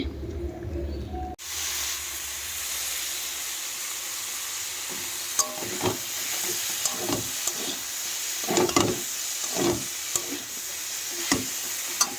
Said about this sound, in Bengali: কপি ভাপিয়ে নিয়েছি আলু ভাপিয়ে নিয়েছি এখন অল্প নুন হলুদ দিয়ে দিয়েছি এগুলো এখন ভেজে তুলে নেব